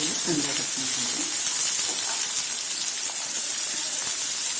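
Chopped garlic frying in hot oil in a pan, making a loud, constant close-up sizzle and hiss throughout, with a faint voice briefly underneath at the start.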